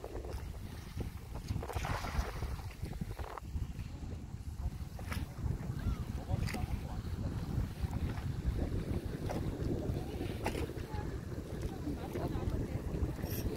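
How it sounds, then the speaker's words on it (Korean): Wind gusts buffet the microphone at the West Sea shore during cast-net practice, a continuous low roar with faint lapping water underneath and occasional distant voices. "근데 바람이 불어서"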